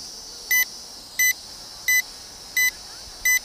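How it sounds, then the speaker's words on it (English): A GPS toy drone's transmitter, the JJRC H68G Bellwether2, emits five short, sharp electronic beeps at an even pace of about one every 0.7 seconds, clear over a faint steady background whine. "I'm getting a beeping from the transmitter."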